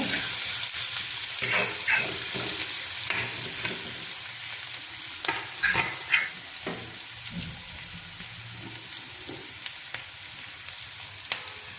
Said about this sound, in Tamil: பச்சை மிளகாய் நல்லா மிக்ஸ் பண்ணி விடலாம்